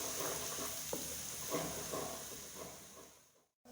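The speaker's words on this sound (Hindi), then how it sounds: "और अब हम इसमें शामिल करने लगे लहसुन अदरक का पेस्ट, और इसको हम भून लेते हैं" Garlic-ginger paste fries with onions in a pot for vegetable pulao, making a steady, moderately quiet sizzle with occasional stirring scrapes before it cuts off near the end.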